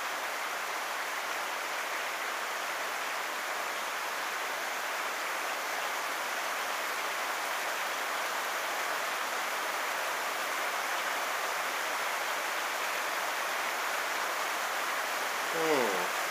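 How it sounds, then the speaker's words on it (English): Heavy rain falls steadily and loudly throughout, a dense continuous hiss with no breaks, heard outdoors during a beer tasting. "I'm hoping this rain isn't drowning all the sound out. I tell you, it's pretty loud."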